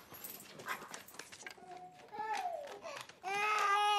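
A dog whimpers and whines in high, wavering cries, growing louder and more insistent toward the end, with some background noise early on.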